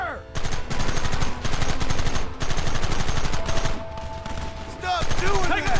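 Rapid gunfire in Red Dead Redemption, loud dense bursts of shots repeating for several seconds with short pauses between volleys, mixed with game noise and shouting.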